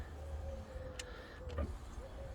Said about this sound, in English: And let's try the window.